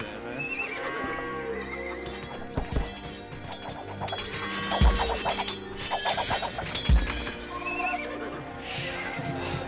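Cavalry horses neigh and whinny repeatedly in an Age of Empires 2 match with Teutons on the Arabia map, mixed with clip-clop hooves and battle clashes over a busy, layered game soundscape.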